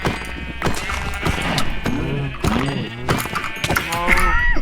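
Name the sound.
sheep bleating on a farm in Minecraft video game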